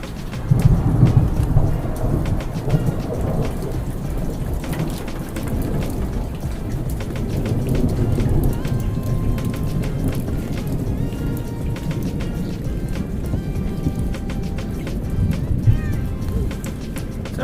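Thunderstorm with pouring rain outdoors, a dense steady roar of heavy rainfall with low rumbling thunder rolling underneath, continuous and fairly loud throughout.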